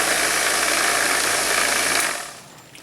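Brass case tumbler vibrating as it cleans .44 Magnum cartridge cases in a garage, a loud steady rattling hum that drops off sharply near the end.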